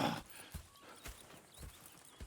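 Horse hooves clip-clopping in Red Dead Redemption 2, a quiet, steady walking rhythm of soft regular hoof strikes.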